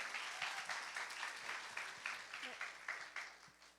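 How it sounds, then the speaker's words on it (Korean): A church youth congregation claps in encouragement, a moderate, fairly distant patter of applause with a rhythmic pulse, while a voice speaks briefly underneath. "여러분 큰 박수로 한번 격려해 주세요"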